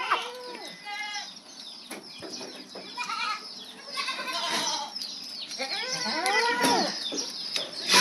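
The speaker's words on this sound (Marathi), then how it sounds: "हे बघा त्या वेगळ्या शेळ्या आहेत" Several goats on a farm, including nannies with kids, bleat repeatedly and overlap one another, some calls near and loud, others farther off, with no talking.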